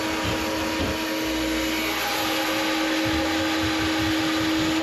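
A shop vacuum fitted with a HEPA filter runs steadily nearby, a loud continuous whooshing roar with a constant motor whine, left on to suck up cutting dust during rat-proofing work in a bathroom wall.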